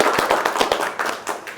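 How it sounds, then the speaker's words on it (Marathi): An audience at a felicitation event applauds for Prashant, a burst of close, loud hand claps in a fast, uneven rhythm over a short stretch. "मी सगळ्यांना विनंती करते एक वेळेस प्रशांतसाठी जरा थोडा जास्त टाळ्या वाजवा."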